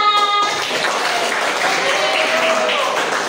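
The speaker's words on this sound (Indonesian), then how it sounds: "Tepuk tangan untuk kelompok 4." A class of students claps for a group after its presentation, a continuous moderate applause wash that runs the whole time while a voice talks over it.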